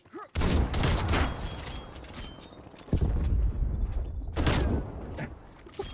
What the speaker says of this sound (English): I'm over here just trying to showcase this shotgun